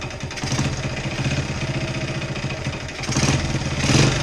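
A 1972 Honda CT70H small motorcycle engine sits idling with a rough, pulsing putter, then revs up twice under the throttle, getting louder on each rise.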